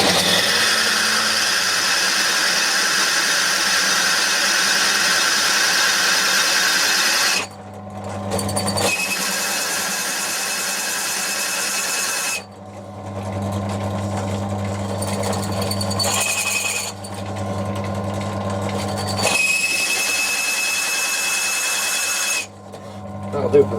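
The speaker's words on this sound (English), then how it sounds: "So standard 10 mil drill first." A power drill with a standard 10 mm bit whines steadily at length, drilling holes 30 mm deep in a compound slide replacement block, stopping and restarting several times, loud and close, with a lower motor hum between runs.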